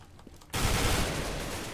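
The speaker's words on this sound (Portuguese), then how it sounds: "Olha, muito tiro." Counter-Strike: Global Offensive gunfire erupts suddenly as a dense, continuous barrage of shots, loud and sustained after a quiet moment.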